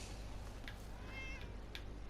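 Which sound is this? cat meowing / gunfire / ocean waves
cat meowing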